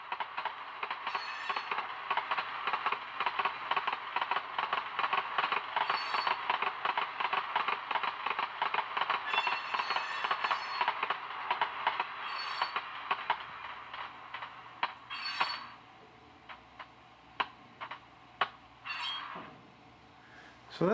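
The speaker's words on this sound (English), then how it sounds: "You got the clickety-clack and the wheel flange sound there." Model train clickety-clack and wheel flange squeal from a SoundTraxx Tsunami SoundCar digital sound decoder, a fast, steady rhythmic clatter with a high, thin screech on top that thins out to scattered clicks near the end.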